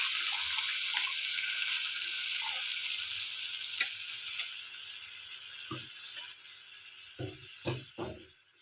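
Water poured into a bowl of gram flour gives a faint background hiss and trickle, followed by a few soft thuds and clinks near the end.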